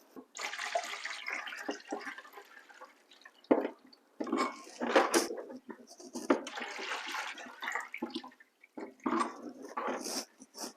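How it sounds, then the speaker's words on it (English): Water is poured in uneven bursts into the 6-liter basin of a bamboo hydroponic indoor grow system, splashing and gurgling with short pauses between pours, close and moderately loud. "So we are going to fill this up with 6 liters of water."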